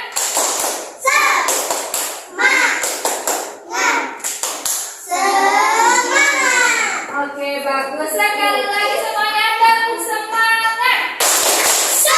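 Children in an Indonesian primary classroom perform a rhythmic spirit clap, bursts of clapping in patterned groups near and loud, followed by a stretch of children chanting together in sing-song voices, then clapping again.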